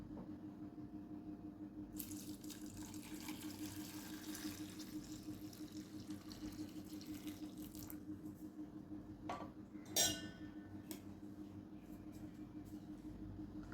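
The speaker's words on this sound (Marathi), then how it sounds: "आता आपण त्याच्यात गरम पाणी घालणार आहे" Hot water pours into a bowl of cauliflower pieces, a soft, steady splashing stream that starts after a quiet moment and runs on faintly with a small clatter near the end.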